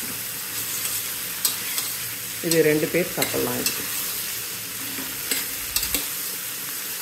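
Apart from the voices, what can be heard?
vegetables sautéing in a pan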